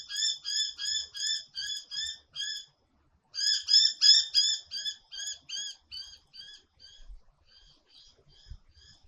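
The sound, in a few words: birds calling outdoors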